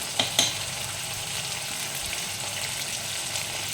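Egg Manchurian frying with sauces in a pan, a steady close sizzle with a couple of quick utensil clicks at the start, no speech.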